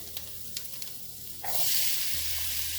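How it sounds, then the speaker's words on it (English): A few light clinks at first, then a sudden loud, steady sizzle of flautas hitting a hot frying pan that keeps crackling to the end. "that sizzling sound makes me feel like I'm doing a good job"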